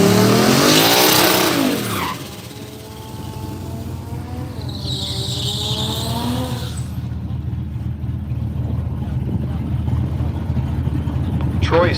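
Mini Cooper cars run heads-up in the Power Adder class at Woodburn Dragstrip, engines roaring loud and steady for the whole stretch, with a brief burst of tire squeal early and a strained rising engine note in the middle, plus a voice over a public address.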